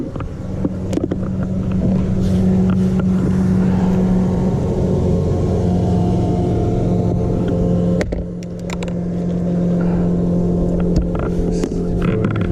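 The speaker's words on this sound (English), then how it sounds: "It's just, all this boat traffic's a killer." Motorboat traffic passes on a lake during a bass fishing trip, a steady low outboard drone rising and fading across the clip, with a brief break near the middle before another boat hums by.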